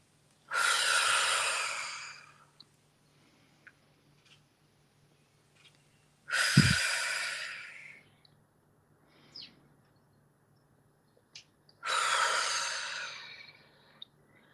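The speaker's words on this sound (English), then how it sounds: "start with 3 deep breaths" Three deep, slow breaths, each a long airy exhale of about two seconds, spaced evenly apart in a quiet room during a guided meditation, with near silence between them.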